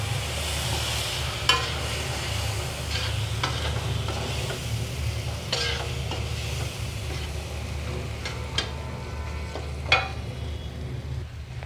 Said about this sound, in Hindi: मटर को भी जो है अच्छे से भून लेंगे